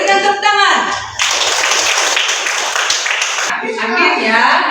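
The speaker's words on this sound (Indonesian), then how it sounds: "Berikan tepuk tangan" A classroom of children breaks into a burst of clapping that lasts about two seconds, with a voice speaking just before and after it.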